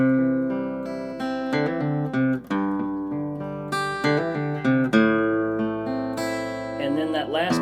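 Acoustic guitar plays a slow intro lick of single notes using hammer-ons and pull-offs, clear and close, each note ringing out before the next, finishing on a strummed chord.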